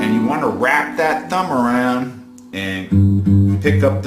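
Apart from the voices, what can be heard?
None of the usual background noises is heard.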